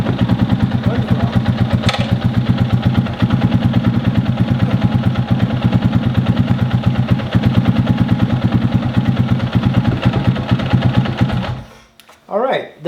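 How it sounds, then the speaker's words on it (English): A Honda XR650R motorcycle engine, just after a valve adjustment, idles steadily with a fast, even thumping beat close by. It runs near-continuous, then cuts out near the end, with a brief burst of other noise after it. "the bike starts fairly quickly, so I think we've done well with the valve adjustment"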